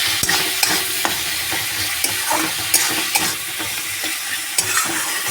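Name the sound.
tomatoes and spices frying in a pan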